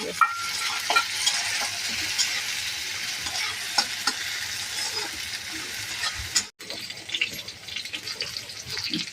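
Onion sizzles steadily in a hot pan while a utensil stirs and scrapes it in repeated strokes, with a short break and a clink partway through.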